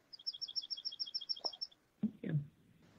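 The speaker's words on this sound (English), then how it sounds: "Somebody is outside where there's birds." Outdoor birds chirp in a quick, regular series of high tweets, faint and somewhat distant, followed by a couple of brief low sounds near the end.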